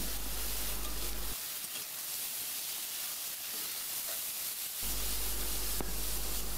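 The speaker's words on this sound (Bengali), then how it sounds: "তেলটা গরম করে নিয়ে কুচি করে কেটে রাখা আলুগুলো দিয়ে নাড়াচাড়া করে কিছুক্ষণ ভেজে নিচ্ছি" Chopped potatoes sizzling and frying in hot oil in a pan, a steady broadband hiss that stays continuous throughout with faint stirring scrapes and no voices.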